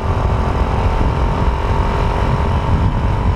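A racing-tuned Suzuki Raider 150 motorcycle engine runs loud and close, a steady throaty rumble with a rough, pulsing texture that holds for several seconds with no voices over it.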